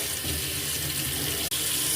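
A faucet runs at full force on maximum cold, giving a steady, loud rush of water that fills the whole stretch with only a brief break near the middle.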